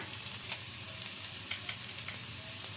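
Chopped onions, green chillies and curry leaves fry in hot oil in a pan, giving a steady dense sizzle with small crackles and pops throughout, close and fairly quiet, with no voices.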